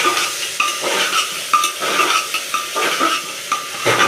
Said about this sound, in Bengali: রান্নাটা হচ্ছে, প্রেসার কুকারে কষানো হচ্ছে।